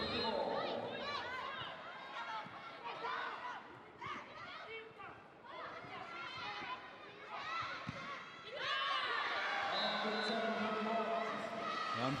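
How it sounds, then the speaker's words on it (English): Large arena crowd at a London 2012 Paralympic sitting volleyball match between Ukraine and Japan in the XL Arena, where thunder sticks were sold. A steady roar of chatter and cheering runs throughout and swells louder near the end. "Another fantastic crowd here inside the XL Arena."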